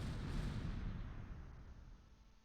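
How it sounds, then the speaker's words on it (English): A mortar round fires in the Close Combat war game, a deep low boom that rolls and fades over two seconds. "Mortars going out."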